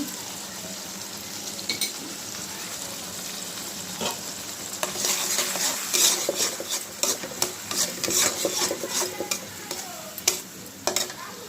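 Turmeric, chili and cumin powder with salt being stirred and fried in a pan, a steady sizzle broken by rapid scraping strokes of a spoon against the pan, close and busy, with no talk.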